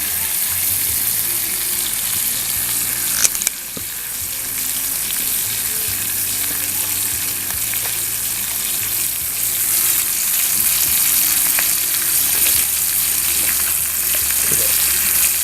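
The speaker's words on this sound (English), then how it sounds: "This thing was just crawling around on the ground a little bit ago. Now we're frying it up." A snake that had been crawling on the ground fries in a pan with a loud, steady sizzle. A brief clatter sounds partway through, then the hiss carries on without a break.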